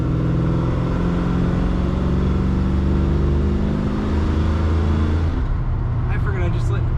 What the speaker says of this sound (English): Great sounding truck, acceleration very good.